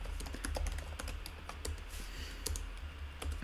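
Code typed on a computer keyboard, a quick, uneven run of close, soft key clicks and taps over a low background hum.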